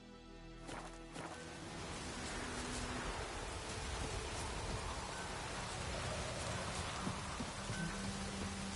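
Steady rain falls in the Witcher 3 video game, a continuous even hiss of drops on surfaces with soft patter underneath, holding constant throughout with no speech.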